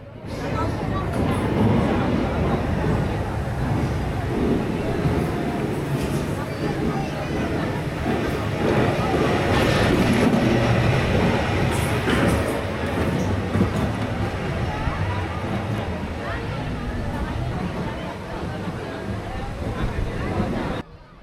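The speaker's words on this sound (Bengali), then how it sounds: "এই পার্কের মূল আকর্ষণ হচ্ছে এই রোলার কোস্টার বাংলাদেশের সব থেকে ভয়ঙ্কর রোলার কোস্টারের একটি হচ্ছে এটি" A roller coaster that loops a full 360 degrees at Sharif Dream Park in Keraniganj, Bangladesh, rumbles continuously, loud and steady, beneath a person talking throughout.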